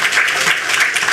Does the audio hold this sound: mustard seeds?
no